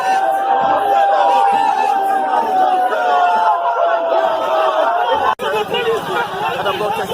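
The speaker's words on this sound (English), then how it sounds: "I see there's a tussle there going on between police and protesters" Outdoor crowd of protesters gathering amid a police tussle: a dense, steady hubbub of overlapping chatter and shouts, fairly close, with a brief sharp bump near the end.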